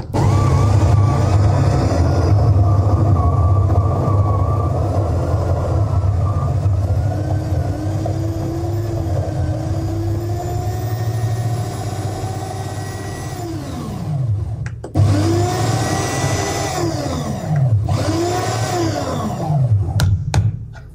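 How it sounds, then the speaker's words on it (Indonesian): An FGM 9702 electric coffee grinder grinds 5 grams of beans coarse for French press: a loud, continuous motor whir with a rising and falling whine, then short dips and bursts near the end as it stops and restarts, with no talk. "Oke, langsung giling ya."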